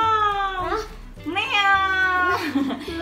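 A person's voice imitates a cat, giving a few drawn-out, rising and falling meows up close.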